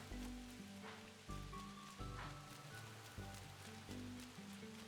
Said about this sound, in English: For it to be raining here again.